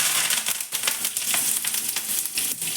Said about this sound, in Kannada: ಎಣ್ಣೆ ಕಾಯ್ತಿದ್ದಂಗೆ ಸಾಸಿವೆ ಹಾಕೋತಾ ಇದ್ದೀನಿ ಮತ್ತು ಒಣಮೆಣಸಿನ್ಕಾಯಿ ಹಾಕ್ಕೊತಾ ಇದ್ದೀನಿ